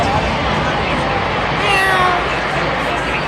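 A voice imitates a cat's meow, a brief drawn-out call rising above loud crowd noise and chatter at a busy concert venue.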